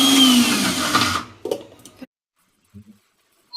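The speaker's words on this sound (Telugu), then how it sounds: "దాని తర్వాత మినపగుళ్ళని మిక్సీలో అయితే గ్రైండ్ చేసేసుకున్నాను." A mixer grinder whirs loudly as it grinds soaked urad dal, then abruptly stops after about a second and a half, leaving a few faint knocks and clatters in near silence.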